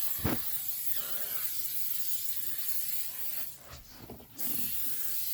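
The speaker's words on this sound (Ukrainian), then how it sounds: "Така бачимо, йде піна, зразу вступає реакцію, так як шипить." K2 Green Tea plastic polish foaming and hissing on a car's steering wheel and dashboard plastic after the shaken can is sprayed, a steady soft fizzing hiss with a short spray burst partway through, close by with no talking.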